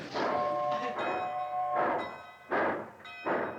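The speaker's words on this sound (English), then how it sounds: "Who's blowing that locomotive whistle?" A locomotive whistle blows in several long, loud, tonal blasts with short gaps between them as a train pulls out.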